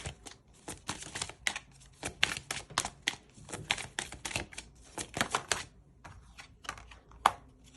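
Tarot cards being shuffled and drawn, heard as a quick run of crisp, close card flicks and riffles in an irregular clattering rhythm, then a few sparse snaps near the end, with no talk over it.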